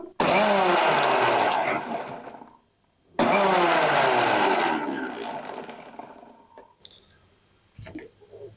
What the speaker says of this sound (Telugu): ఉల్లిగడ్డలు మాత్రమే మిక్సీ వేసుకుంటున్నాం మనము అది కూడా పల్స్లో పెట్టి వేసుకోవాలి